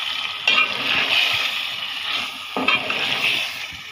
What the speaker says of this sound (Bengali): কষানো হয়ে গেছে মশলাটা, এখন মাংসটা দিয়ে দিব